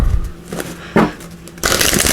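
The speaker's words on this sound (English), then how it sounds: "We'll give these a good shuffle." A deck of energy oracle cards is shuffled by hand, with soft scraping riffles and brief slaps, then a louder, continuous rustle of cards at the end.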